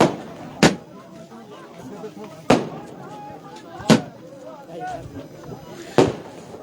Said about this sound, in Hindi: यहाँ पटाखों की बारिश देख सकते हैं आप